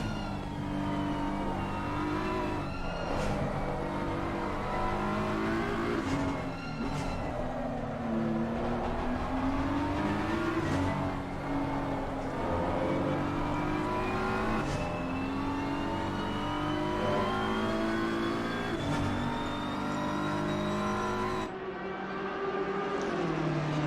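GT3 race cars, including a Lamborghini, lapping Paul Ricard in a PC racing game, their engines loud and continuous, pitch climbing and dropping through gear shifts as the cars close on each other, with no voices.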